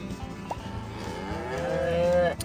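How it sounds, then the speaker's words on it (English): Cow mooing in the video game Mooo!, one drawn-out, loud moo rising in pitch and swelling toward the end before cutting off, heard alone over steady background music. "It is a cow."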